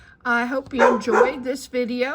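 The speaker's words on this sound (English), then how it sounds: "I'm sorry about the dog barking" A dog barks and yips in the background of an indoor room while someone speaks over it, the barks mixed under her voice.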